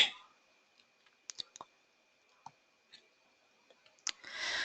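Computer mouse clicks while setting up a Java servlet in an IDE, a handful of sharp, isolated clicks spread across a quiet background with a steady faint hum, ending in a brief burst of noise.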